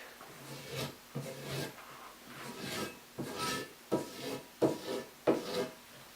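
Paper blade drawn along a strop in a series of short rubbing strokes, quiet and close, with a soft rasping texture and brief pauses between passes.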